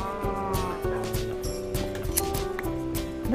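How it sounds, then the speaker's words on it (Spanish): A cow moos in the Minecraft video game, sounding over continuous tonal game music that plays throughout. "La vaca dice que tiene calor"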